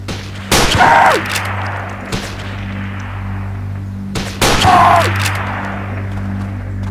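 Two loud, sharp sniper-rifle shots ring out in a video game, roughly four seconds apart, each a sudden bang followed by a brief ringing tail over a steady hum.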